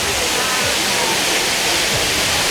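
Jaibai Temple waterfall at Ozarde near Pune, swollen by rain: a dense, steady roar of falling water filling the whole clip, loud and close with no break.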